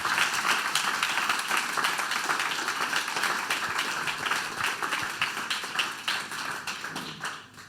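Warm audience applause for Inia Raumati and Vicky at a live show, dense sustained clapping that fills the room and slowly tapers off toward the end.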